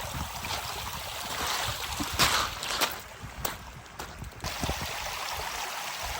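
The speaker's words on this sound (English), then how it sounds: "first I had to negotiate this stream which was flowing out" Stream water flowing out across a seaside foreshore near Wembury, a steady close trickling and gurgling wash with brief splashy bursts as it is crossed.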